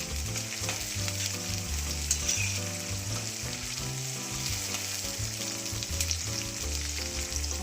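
Soya wadi curry cooks in a pan with a constant, crackling sizzle, close and uninterrupted, with no talking.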